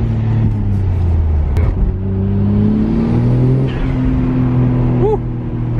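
A Nissan Skyline R32 GTR engine pulling hard under boost, loud and close, a droning engine note climbing in pitch with a brief rev dip and a short whistle-like tone near the end.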